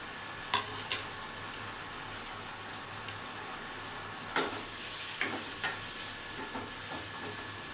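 Lightly fried potatoes being added to a paneer curry produce a faint steady sizzle, broken by a few sharp spoon taps and scrapes against the pan, close by and with no one speaking.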